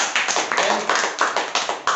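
Second-grade classroom children clapping for a classmate after an addition problem, loud rhythmic claps in a steady beat of roughly six pulses, close by with some voices mixed in.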